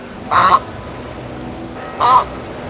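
An Australian ibis gives two short, harsh, honking croaks about a second and a half apart, close and loud over a steady outdoor hiss.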